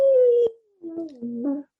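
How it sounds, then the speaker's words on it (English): A long, wavering howl slides downward before breaking into a series of shorter, whimpering, dog-like wails, close and fairly loud, with no talking. "there's a howl, Bob."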